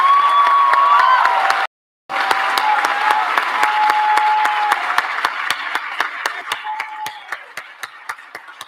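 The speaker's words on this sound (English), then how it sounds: "Please join me in one more round of applause for all of today's deserving prize recipients" A large audience at a school Prize Day ceremony applauds loudly and steadily, the clapping briefly cutting out before resuming and gradually thinning toward the end.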